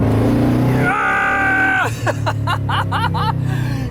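A muscle truck fitted with Holley Sniper EFI roars as it launches, the engine revving hard with a rising pitch and then a run of sharp rapid rev bursts, loud and close, with a voice yelling over it.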